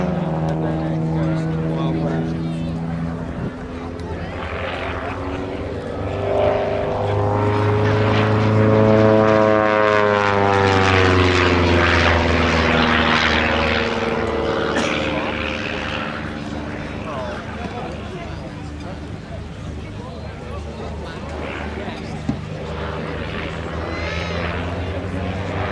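A propeller aerobatic aircraft performs at an airshow at East Kirkby, its engine note swelling and sweeping in pitch as it rolls on a downline, with a commentator talking throughout.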